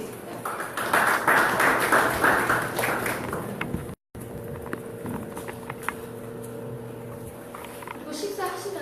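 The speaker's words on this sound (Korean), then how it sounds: "우리 올비의 김명진 대표님 큰 박수로 모시겠습니다." Audience applause welcoming a startup founder onstage at an innovation policy seminar, dense clapping filling the first four seconds before thinning into scattered claps and room murmur.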